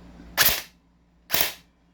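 Airsoft DMR rifle firing to clear the chamber: two sharp, short cracks about a second apart, close and loud over a quiet background.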